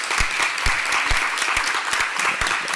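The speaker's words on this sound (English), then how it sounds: "she deserves a really big round of applause" Dense, sustained audience applause fills a conference hall during a poster awards announcement, steady and loud with a few sharper claps standing out near the front.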